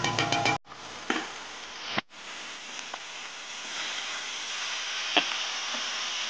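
Chopped tomatoes go into a pan for a fish curry and fry with a steady hiss, broken by a couple of abrupt cuts and small pops; the sizzle stays moderate and even.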